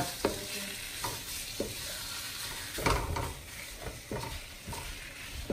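Green beans and beef sizzle steadily in a frying pan while a utensil stirs them, with soft periodic scrapes and clinks over the hiss; close and moderately quiet, no talking.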